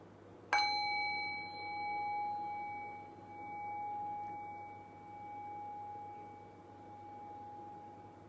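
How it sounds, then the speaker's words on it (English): Meditation bell struck once, giving a bright ringing tone with clear overtones that slowly fades and swells faintly into near silence, with no voices. "Allow the decay of the bell to guide your awareness into silence."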